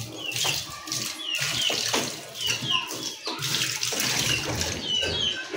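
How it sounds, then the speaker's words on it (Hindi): Water poured into a container set out for animals, a steady, fairly loud splashing stream with gurgling surges, heard close up and continuous throughout. "ये अब इसमें भी पानी हम डाल देते हैं।"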